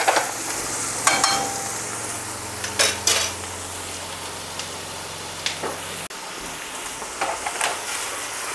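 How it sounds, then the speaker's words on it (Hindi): Vegetables for vermicelli are stir-fried lightly in a pan, giving a steady close sizzle with scraping stirs and occasional clinks of the utensil against the pan. "सब्जी को अच्छी तरह से हिला लेते हैं।"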